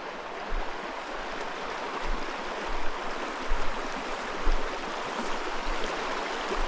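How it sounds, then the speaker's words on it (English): A flowing stream heard while hiking in to fish, a steady broadband rush of water with low thumps, likely footsteps, recurring close by; no talking. "Hiking into the stream that I want to fish today."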